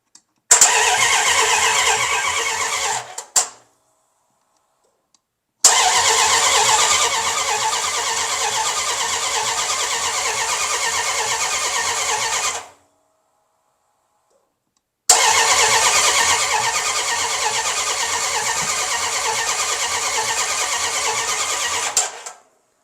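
A long-dormant car engine, not started in ten years, cranks and catches three times in a row, each a loud close burst of running that cuts off abruptly, separated by silent pauses.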